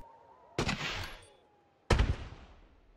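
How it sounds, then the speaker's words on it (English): Fireworks show in Planet Coaster, two sharp booming bursts about a second apart, each crackling and fading over a quiet park hum. "The same fireworks show over and over and over."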